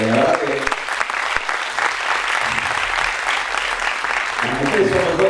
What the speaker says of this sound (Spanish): Hay que hacer un aplauso, Analía